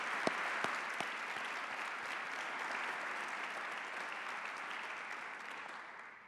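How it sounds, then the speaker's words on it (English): A round of applause at a Ball State University presidential introduction, even, sustained clapping from an audience in a hall, fairly soft and distant, with a few sharper claps near the start. "Let's have a round of applause for Anita."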